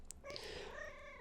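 A pet cat in the room gives a faint, low, drawn-out meow-like vocalization rather than a steady purr, quiet and close with no talking.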